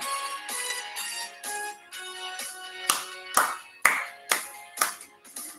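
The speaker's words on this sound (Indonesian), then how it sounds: "Yuk, tepuk tangan semuanya." A children's worship audience claps in time, about a dozen sharp, even claps that grow louder and more distinct toward the end.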